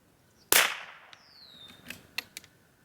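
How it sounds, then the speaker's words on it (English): A sharp, loud crack from a CZ 455 thumbhole fluted varmint rifle fired off a bipod at a target 100 yards away, followed by a few fainter clicks and metallic bolt sounds. "that was 5 shots"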